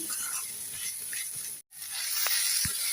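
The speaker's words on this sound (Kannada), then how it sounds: "ಇದೊಂದು 5 ನಿಮಿಷ ಫ್ರೈ ಆಗಬೇಕೀಗ." Okra sizzles in a pan with masala, turmeric and salt, a steady close frying hiss with a few faint stirring ticks and a brief cut-out midway.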